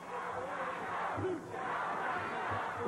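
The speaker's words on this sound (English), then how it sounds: "Fans cheering Too Sexy Brian Christopher" A wrestling crowd at a Memphis, Tennessee show cheers and yells in a sustained, fairly distant roar, with a short lull partway through.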